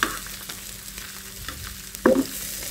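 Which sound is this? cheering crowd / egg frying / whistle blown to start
egg frying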